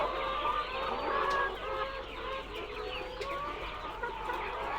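A crowded flock of layer chickens on a poultry farm clucks and chatters continuously, many birds overlapping at once with a steady hum of activity behind them.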